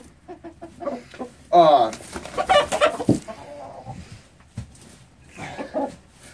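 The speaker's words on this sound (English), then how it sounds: "This rooster is a radio butcher cross game fowl breed." A radio butcher cross game fowl rooster gives a loud, close crow, with short clucks and scattered animal sounds before and after it at a poultry show.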